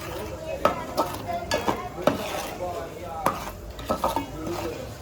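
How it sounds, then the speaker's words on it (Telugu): Masala spices for chicken pickle fry in a pan over low heat, with steady soft sizzling and repeated scraping clinks of a spoon stirring against the metal. "ఇదైతే వేగుతుంది కదా"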